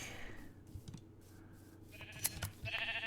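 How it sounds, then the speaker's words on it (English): Short game-style sheep bleats in a video game over a busy low rumble, with a few clicks and a bright chime-like tone near the end. "Sheep!"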